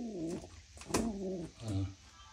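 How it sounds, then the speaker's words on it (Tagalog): Pet pigeon held in the hand, cooing softly and close by in a series of low, throaty, wavering coos, broken by a brief sharp rustle or tap partway through, with no talking. "Ito yung kalapati namin."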